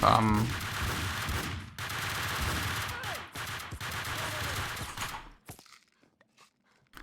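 Sustained gunfire in Max Payne 2: The Fall of Max Payne cracks in rapid bursts with short gaps for about five seconds. It then cuts off, leaving near silence with a few faint scrapes.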